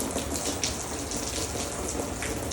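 Rainwater pours off the balconies above at an apartment complex during flooding, a steady splashing, trickling hiss of water hitting a surface, continuous and fairly near with no talking.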